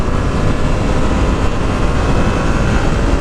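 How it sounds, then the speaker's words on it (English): Steady wind buffeting a GoPro external microphone on a motorcycle rider's helmet while riding, a loud continuous roar throughout with no talking. "Alright, now we're gonna get some wind."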